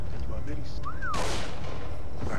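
A single loud gunshot boom in the video game Far Cry 3 cracks out midway over a constant rumbling background, with a brief rising whistle just before it.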